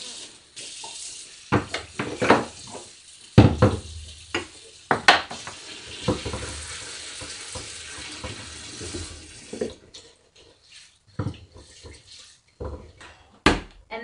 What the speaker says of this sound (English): So the next step here is to wash these beans under cold water.